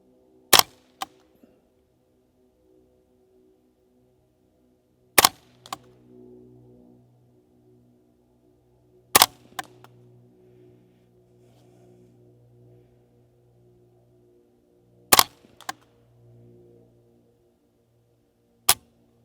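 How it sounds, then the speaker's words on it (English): A Savage A22 takedown rifle with a 3x9x40 scope fires at a target outdoors, giving five sharp, loud cracks spaced several seconds apart, each with a faint trailing echo over quiet background hum. "So now I'm going to shoot the top right. 5 shots."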